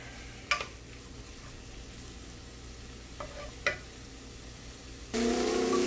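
Onions sautéing in a pan for doubles, a low steady sizzle with a few sharp utensil clicks and stirs, then the frying swells much louder near the end; no talking.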